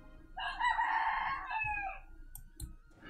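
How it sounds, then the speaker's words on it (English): A neighbour's free-roaming roosters let out one long, loud crow that rises and trails off, followed by a few faint clucks and clicks from the yard. "Sorry about my neighbour's blasted roosters."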